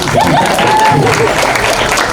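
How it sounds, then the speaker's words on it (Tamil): Applause from an audience, steady and continuous with a voice briefly over it. "கை தட்டுவாங்க"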